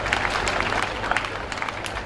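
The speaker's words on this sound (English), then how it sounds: "We deserve a round of applause." Audience applause at the sixth Unimed convocation ceremony in Ondo: a steady wash of many hands clapping across a large gathering, holding at an even moderate level with a few sharper claps rising out of the crowd.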